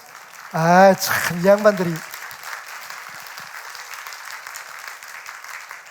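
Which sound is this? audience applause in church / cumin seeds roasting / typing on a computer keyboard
audience applause in church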